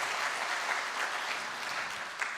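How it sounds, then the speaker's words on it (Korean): A church congregation claps at a Sunday morning service to welcome visitors, soft, even applause from many hands that stays steady and fairly distant throughout. "박수로 환영하겠습니다."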